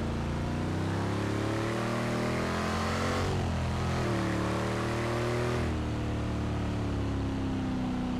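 A loud, throaty 1970 Chevelle SS 454 engine in Forza Horizon 3 drones steadily with layered harmonics, its pitch dipping and rising mid-clip as it revs, continuous and close throughout.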